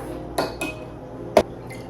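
A spoon stirs thick homemade yogurt starter in a bowl, knocking and clinking against the sides in three sharp taps over a soft background hum, close and fairly quiet.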